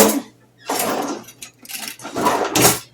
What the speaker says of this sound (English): Need to get a little spoon.